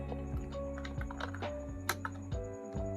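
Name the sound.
typing on a computer keyboard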